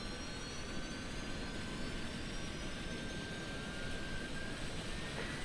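Jet engines of an iniBuilds A300-600F cargo airliner in Microsoft Flight Simulator, a steady loud roar with a high whine running throughout at a stand, no talk.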